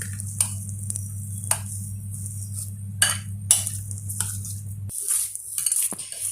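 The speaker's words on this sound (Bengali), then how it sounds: "ওই জন্য আমি চামচ দিয়ে একটু মাখছি" Spoon mixing still-warm mashed potato in a bowl, heard as intermittent clinks and soft scrapes over a low steady hum, a handful of distinct taps spread out.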